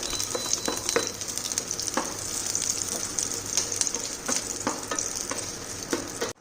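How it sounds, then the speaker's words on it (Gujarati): Chopped onion sautéing over a low flame in oil with crackling garlic cloves in a pan, a steady close sizzle with scattered pops and the scrape of stirring, no talking. "ઓનિયનને આપણે લાઇટ પિંક કલર જેવી ટ્રાન્સપરન્ટ થઈ જાય ત્યાં સુધી સોતે કરવાની છે"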